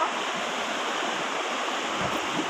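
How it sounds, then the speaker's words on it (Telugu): A waterfall at Valasa rushes in a constant, loud, broadband roar of falling water with no break. "చూస్తున్నారు కదా జలపాతం మొత్తం భలే ఉంది ప్రాజెక్ట్లా"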